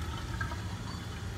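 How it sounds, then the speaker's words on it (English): Water poured into a container for a homemade snow project, a soft steady gurgling trickle at low volume without a break. "going to add lots of water"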